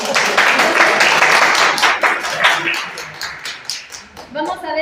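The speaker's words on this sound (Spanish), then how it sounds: "Damos un aplauso." A group of older adults at a community centre memory workshop claps together, loud at first and then thinning into scattered claps as voices start talking near the end.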